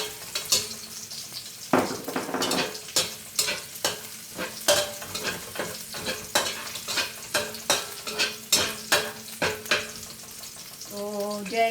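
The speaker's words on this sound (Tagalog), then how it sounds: "Now I'm sauteing the garlic." Garlic sautés in a pan, a steady sizzle under rhythmic scraping and stirring strokes, close and continuous, with a brief clink near the end.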